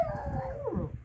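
A pet dog gives a drawn-out howling whine that slides downward and wavers, heard up close over low background noise, with no one talking.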